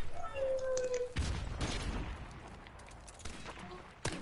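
Gunfire from an AK rifle in a multiplayer shooter game, a burst of shots and booms breaking in after a brief tone, with softer follow-up reports and a final sharp shot near the end; a voice may sit faintly underneath.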